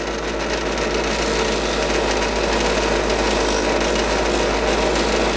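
A steel part is polished on a super soft wheel, producing a loud, steady whirring grind that holds unbroken from start to finish with no voices over it.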